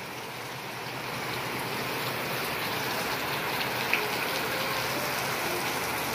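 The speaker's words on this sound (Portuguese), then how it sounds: "Tá chovendo muito." Heavy rain pours steadily outdoors in the early afternoon, a dense, even wash of water noise that holds constant throughout with no voices over it.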